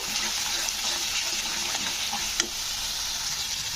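Spices with a little turmeric powder sautéing in a hot pan for a vegetarian kohlrabi dish, giving a steady close sizzle with faint stirring scrapes and one brief clink, no talking.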